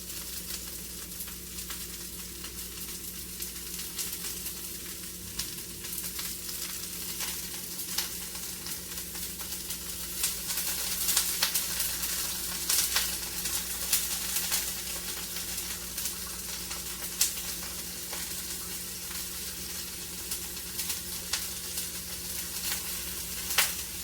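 Broccoli pieces laid flat in a hot pan sizzle steadily and continuously, a dense, even crackle close up with no talking.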